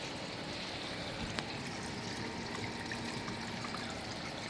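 Water trickling and flowing steadily in a creek outdoors, a continuous, fairly soft babbling wash with no talking.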